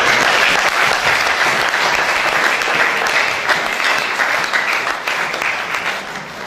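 A church congregation at a worship gathering on Mount Morija applauds together, a dense, loud wash of clapping that carries steadily and then tapers slightly toward the end.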